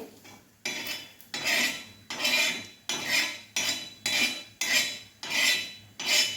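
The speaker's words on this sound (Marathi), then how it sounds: "बघा दोन मिनिट मी भाजून घेतला आहे कांदा आता आपण हा काढून घ्यायचा आहे" Roasted onion being scraped out of a pan with a metal spatula, about ten rhythmic scrapes in a row, each a bright rasping stroke at close range.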